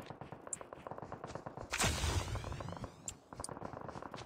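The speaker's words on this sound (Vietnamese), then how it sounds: "Rồi nó bắn quá trời bên đó luôn." Gunfire in a Call of Duty match: a steady patter of distant shots and small impacts, then a loud burst with a long whooshing, rumbling tail, followed by more scattered gunshots, with no talk.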